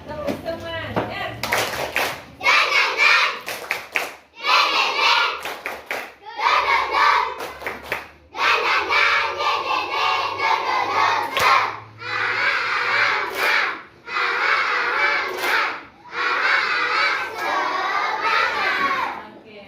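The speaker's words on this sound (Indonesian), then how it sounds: "kita tepuk semangat dulu" A class of schoolchildren performs a rhythmic spirit clap chant, bursts of unison shouting and sharp group claps in repeating patterned phrases separated by brief pauses, loud and close in a classroom.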